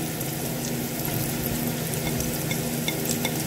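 Garlic sizzling in hot oil in a pan while pasta meatballs are being cooked, a loud continuous crackle and hiss throughout with no talking.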